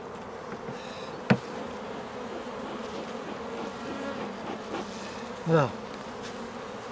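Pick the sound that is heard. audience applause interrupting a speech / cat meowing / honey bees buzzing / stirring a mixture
honey bees buzzing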